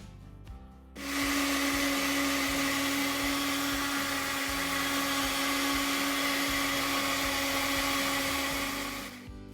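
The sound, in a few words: blender jar grinding roasted chaat masala spices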